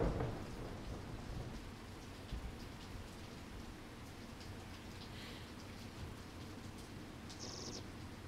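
Steady rain with rumbling thunder on a dark night in the video game Everhood, a soft constant downpour close by with low rolling rumbles, and no talk.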